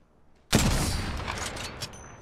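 A burst of gunfire in Apex Legends, a loud sudden volley after a quiet moment that stays busy with rapid overlapping shots and echoing tails.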